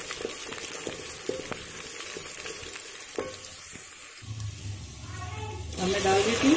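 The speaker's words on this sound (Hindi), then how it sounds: "तो मैं अदरक लहसुन डाल देती हूँ। थोड़ी देर मैं भून लेती हूँ उनको" Ginger and garlic frying in hot oil with browned onions for moti pulao, a continuous close sizzle with occasional stirring knocks, growing louder and hissier near the end.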